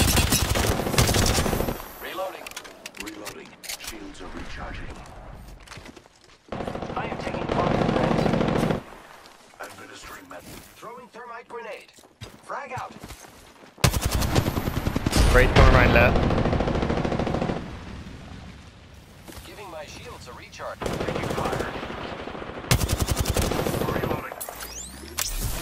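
Rapid automatic gunfire in a video game comes in long, loud bursts broken by short pauses, with a voice talking over parts of it.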